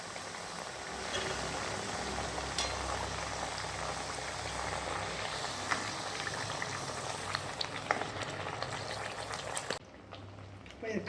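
Thattai snacks deep-fry in hot oil with a dense, continuous bubbling crackle, steady and close, that thins and drops away sharply near the end.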